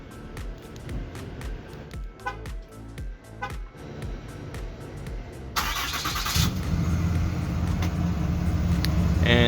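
Clicks and light handling noises come before a Cummins truck engine with an axle dump exhaust cranks and fires up, settling into a steady, low, rumbling idle nearby.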